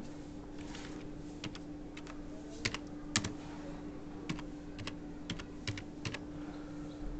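Typing on a computer keyboard to enter a product description, with irregular bursts of close key clicks over a steady low electrical hum.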